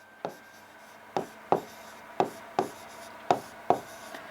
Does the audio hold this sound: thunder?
no